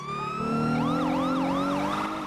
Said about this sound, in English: if you turn the siren on and hit the one that says R, you'll hear different sirens